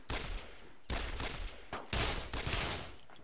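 Repeated loud volleys of rifle and machine-gun fire in the World War II shooter Brothers in Arms: Road to Hill 30, coming in several close bursts separated by short gaps.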